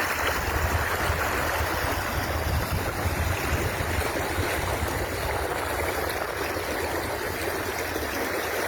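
The flooded Trask River in Oregon rushes past in a steady, loud, broadband roar of turbulent water, continuous and unbroken with no voices.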